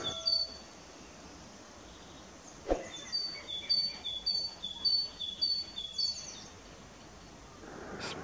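Sparrows chirping outdoors: a faint series of short high chirps in a quick irregular run, with a louder call near the start and light background noise.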